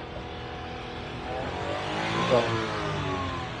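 Idling engine of a Japan surplus car at a dealer lot, a steady rumbling hum with a slight swell in revs near the middle, close and continuous, with a brief spoken word over it.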